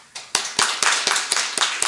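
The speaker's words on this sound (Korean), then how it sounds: "우리 장학금을 전달할 때 힘차게 박수로 격려해 주시기 바랍니다" Scattered hand clapping from a church congregation during a scholarship presentation, roughly a dozen crisp separate claps in uneven rhythm that build into a modest round.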